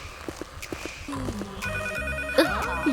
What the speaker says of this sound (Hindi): शायद फोन बज रहा है।